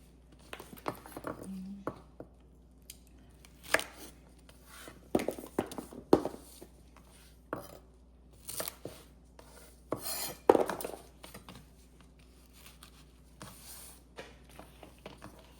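Fresh okra being trimmed of bad parts with a knife on a cutting board, giving a series of soft, irregular cuts, scrapes and taps, close and fairly quiet.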